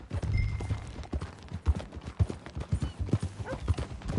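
Horse hooves clip-clop steadily as a rider sets off in a PS4 western video game, loud and close with irregular thuds under a low rumbling backdrop, no talking.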